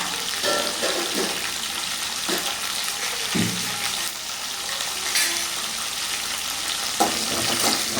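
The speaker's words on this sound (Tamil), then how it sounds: "அந்த வெங்காயம் தக்காளி வதங்குறதுக்குள்ளே" Onion and tomato frying in a pan with intermittent stirring, a loud, continuous hiss with a few scrapes and clunks of the spoon.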